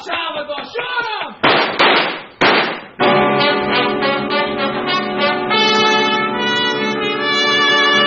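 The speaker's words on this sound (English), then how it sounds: "Well, shoot him, Salvador. Shoot him!" Gunshot sound effect in a vintage noir detective radio drama: two sharp, loud shots ring out in quick succession after a shouted line, followed at once by a sustained orchestral music sting.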